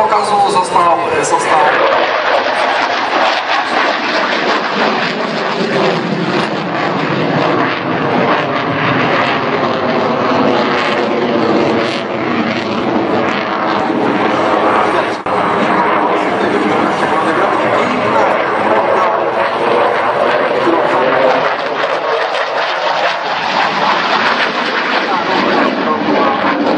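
A Belgian Air Component F-16AM fighter jet flying a solo air show display at Radom, a loud continuous jet engine roar with shifting pitch as it passes, while an announcer talks over it.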